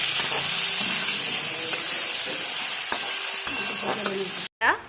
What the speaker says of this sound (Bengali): দিয়ে ভালো করে আমরা আলুটাকে ভেজে নিচ্ছি